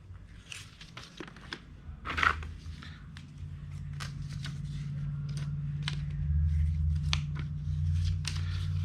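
Snipping and cutting sounds as material is trimmed during the rear rebuild of a figure 8 race car, several short crisp cuts over a steady low hum, close by.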